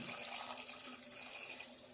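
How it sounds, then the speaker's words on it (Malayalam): Water pours steadily into a pot of jackfruit seed curry pieces seasoned with turmeric and salt, a close, continuous splashing rush that lasts the whole stretch without pause or talk. "കഷ്ണങ്ങൾ വേവാനുള്ള വെള്ളം കൂടി ഒഴിക്കാം"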